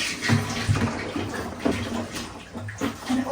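A jug scoops and pours water from a floor during a cleanup, giving short splashy sloshes and drips at close range with a brief bit of background voice.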